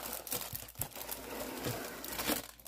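A small plastic package being opened by hand, with close, continuous crinkling and crackling of the plastic wrap for a few seconds and occasional sharper tearing rustles, no talking.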